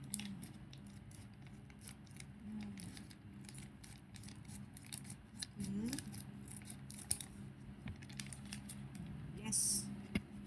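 Scissors snipping open a plastic package of Australian vegetables, a run of quick faint cuts and rustles, with people talking softly in the background.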